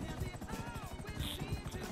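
Helicopter in a video game, a rapid low rotor thumping beating steadily at close range, partly under a person talking.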